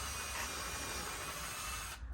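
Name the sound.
drilling a pilot hole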